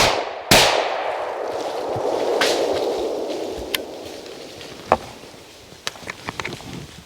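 Shotgun fired at a flushing woodcock during a bird hunt: a single sharp, loud blast near the start, with a long decaying wash after it. Fainter clicks and snaps follow, and no one speaks.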